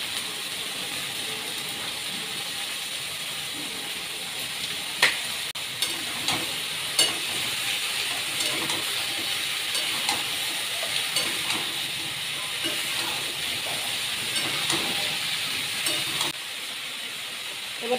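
Curry frying in a pan after turmeric and salt go in, a steady close sizzle running throughout with occasional sharper clinks and scrapes from a utensil stirring, no voices.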